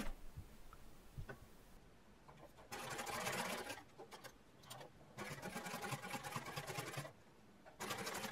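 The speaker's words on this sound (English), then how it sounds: "Stitch a bar tack using a narrow zigzag and short stitch length." Domestic sewing machine stitching a bar tack on jeans with a narrow zigzag and short stitch length, a steady close mechanical whirring in several runs separated by brief pauses.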